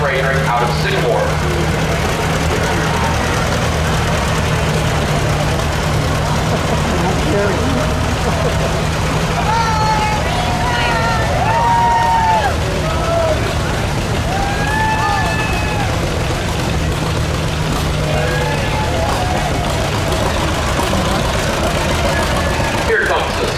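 A 1951 Cockshutt 30 tractor runs at a steam power show, a steady low engine drone beneath loud crowd chatter and a nearby announcer's voice.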